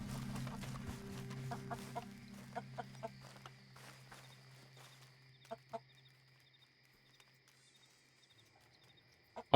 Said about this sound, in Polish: Kogut rasy Domingue